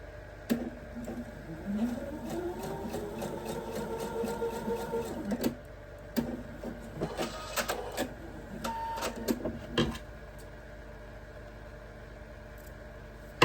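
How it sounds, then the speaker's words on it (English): Sewing machine stitching a quilt block corner to corner in short whirring bursts separated by brief pauses and clicks, fairly quiet and close. "I'm going to go ahead and sew this one corner to corner."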